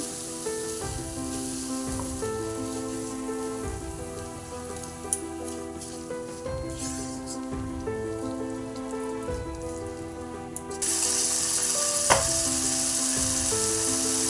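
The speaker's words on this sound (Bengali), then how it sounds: "দিয়ে দেবো সর্ষে কাঁচা লঙ্কা বাটা অল্প একটু কষিয়ে নিতে হবে" Mustard and green chili paste sautéing in a pan for a rohu fish curry with drumstick flowers, giving a steady, close sizzle that carries under tuneful background music for the whole stretch.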